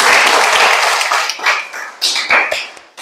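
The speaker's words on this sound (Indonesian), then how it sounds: "silakan beri aplaus untuk teman-temannya" Students in a classroom clap for their classmates, a short burst of dense applause that tapers off within a few seconds into scattered claps.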